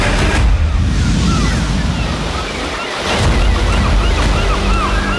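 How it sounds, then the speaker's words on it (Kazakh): Waves on the Caspian Sea wash steadily under a breeze, a loud continuous roar of surf and wind buffeting, with faint bird calls through it. "Өте керемет толқынмен ілескен самал жел."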